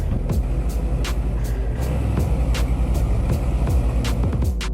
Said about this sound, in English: Truck Simulator Big Rig is an ultra-realistic driving sim that puts you behind the wheel of massive cargo haulers.